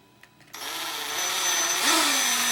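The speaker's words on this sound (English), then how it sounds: "you may want to run your drill bit through here" A power drill runs a bit through a hole in a handmade leather sheath to clean it out, starting abruptly after a brief click and whirring steadily and close, with pitch shifting slightly toward the end.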